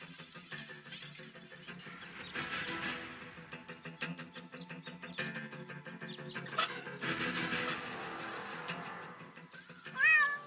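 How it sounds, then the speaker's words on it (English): A cat in the video game Deponia meows repeatedly over quiet game music, several drawn-out plaintive cries at moderate volume, with a short chirpy sound effect at the end. "my poor kitty climbed up the tree and she's afraid to come down"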